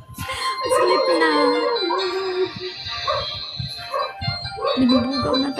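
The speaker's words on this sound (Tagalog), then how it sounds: "Ang ingay ng mga aso." Several dogs bark and yip in loud, irregular bursts close by, mixed with voices talking.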